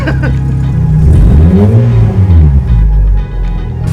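A car running a rain gutter as its exhaust revs hard, its deep roar climbing and falling in a couple of swells before easing back to a low idle, loud and close, with faint voices alongside.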